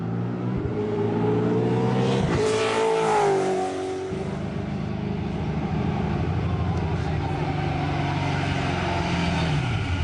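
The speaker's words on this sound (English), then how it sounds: "if you listen to the footage when the car comes back into pit lane, when they shut it off" A Ford Tickford race car rolls back into pit lane with its engine running rough from a massive vacuum leak, revving and droning loudly before the note drops away as it is switched off, leaving a steady low rumble behind.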